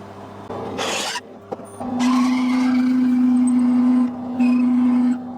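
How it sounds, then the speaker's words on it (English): A drill bores into F55 duplex steel, giving a steady high whine that holds for about three seconds, briefly drops, then resumes before stopping; some clattering precedes it. "We'll drill it out and make it a little bit deeper than that."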